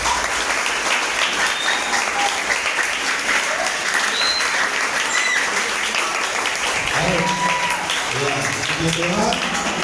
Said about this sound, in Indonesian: Mari tepuk tangan semuanya.